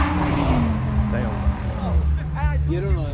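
A car accelerates hard away from a car show, its engine roaring in a steady low rumble that rises over several seconds beneath close, continuous conversation.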